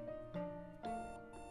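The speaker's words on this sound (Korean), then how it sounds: "알람 꺼야죠, 알람." An alarm clock in the video game Florence rings with a soft melodic chime, repeating a few tones in a steady pattern at low volume.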